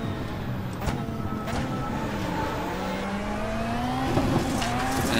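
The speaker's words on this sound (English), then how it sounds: "I just kind of like feather the clutch, feather the gas." Rallycross race car at Daytona with the engine held at a wavering, feathered pitch as clutch and throttle are modulated, a steady close drone with small rises and dips and no talking.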